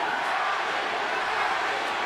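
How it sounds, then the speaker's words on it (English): Boxing arena crowd roaring for Manny Pacquiao in the final seconds of his fight with Timothy Bradley, a steady dense wash of cheering with no clear breaks. "The crowd going for Manny Pacquiao."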